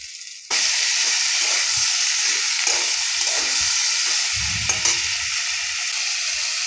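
Thinly sliced banana stem sautéing in a hot pan, a steady loud sizzle that starts abruptly and continues throughout, with occasional stirring scrapes and a brief low thump near the end.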